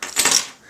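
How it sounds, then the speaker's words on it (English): A bunch of car keys jingles briefly, a quick bright metallic rattle of a few clinks lasting under a second, close and clear with no talk. "car keys"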